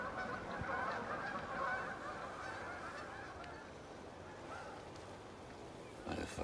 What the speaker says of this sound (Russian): Заткнитесь вы, гуси!